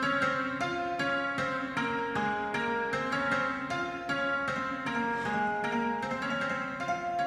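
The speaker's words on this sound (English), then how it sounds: "I did a little melody on the piano" A sampled Kontakt piano plays a short melody, evenly spaced struck notes with ringing tones, moderately quiet and steady, with no voices.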